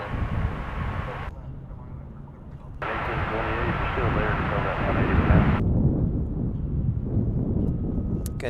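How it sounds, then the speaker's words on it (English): A small Beechcraft airplane at Dallas Fort Worth airport gives off a steady, broad engine drone mixed with wind noise on the microphone. Voices talk over it throughout. "Got a little Beechcraft, looks like."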